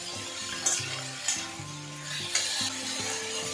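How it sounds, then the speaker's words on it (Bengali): Potato, eggplant and drumstick pieces frying in oil in a pan for a Bengali mixed vegetable curry, a constant close sizzle broken by three scraping stirs about a second apart, with no voices. "আলু বেগুন সরষে ডাঁটা এগুলো দিয়ে দিলাম দিয়ে এগুলোকে হাল ভাজা ভাজা করে নেব"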